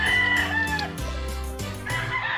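Gilmore gamefowl in a brood pen, with a rooster crowing close by and hens clucking in short bursts around it, loud and clear with no talking.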